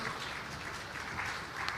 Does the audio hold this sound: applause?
yes